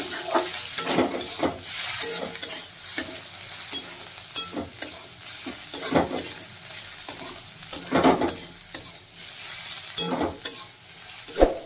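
Bitter gourd slices sizzle steadily in hot oil in a pan, with repeated scraping stirs and occasional utensil clinks against the metal, close and moderately loud throughout.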